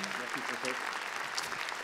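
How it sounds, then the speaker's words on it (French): Steady applause from an audience at an honours ceremony, dense and continuous clapping with voices mixed in beneath it. "on peut les applaudir très fort"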